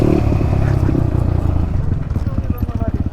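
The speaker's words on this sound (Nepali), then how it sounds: "यो बाइक आउँदा त धरती नै हल्लिन्छ बाबु" An enduro motorcycle riding a jungle trail in the village hills near Chitlang, with a loud, close engine roar that breaks into rapid rhythmic chugging pulses toward the end, while someone talks over it.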